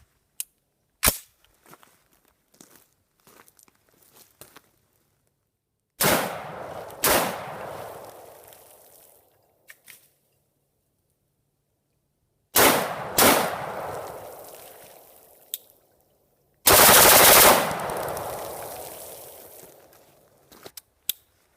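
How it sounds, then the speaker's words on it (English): An MKM 420 rifle fitted with a SYRAC retrofit piston kit fires outdoors: a few sharp single semi-automatic shots first, then three fast full-auto bursts, each ringing out with a long echoing tail. "We'll start with semi-automatic fire and then we'll do some full auto burst."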